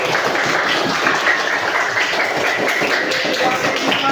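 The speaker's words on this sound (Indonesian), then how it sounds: "tepuk tangan dulu" A classroom of pupils claps together in a dense, lively burst of many hands, loud and sustained across the whole stretch without a break.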